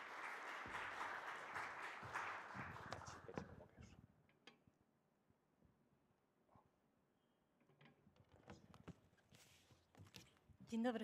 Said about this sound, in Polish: Dziękuję za te gromkie brawa przy tym moim debiucie